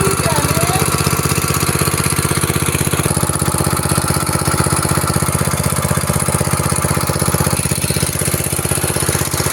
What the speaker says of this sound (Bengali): দীর্ঘ আট থেকে নয় মাস পর মেশিন অবশেষে স্টার্ট নিল এবং সহজে স্টার্ট নিয়েছে